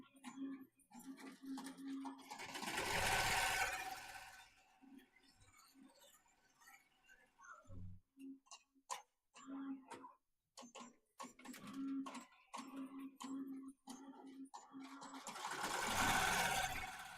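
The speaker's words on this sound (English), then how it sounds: "We are sewing and making foot labels today." A Melco Summit embroidery machine stitches a quilt label, a steady fast mechanical whirr with a hum running through most of the stretch, broken by short pauses and clicking bursts between letters.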